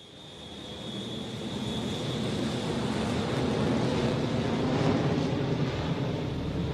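A fixed-wing airplane drones overhead in a movie scene, a steady broad engine roar with a faint high whine that slowly swells louder, heard alone without speech.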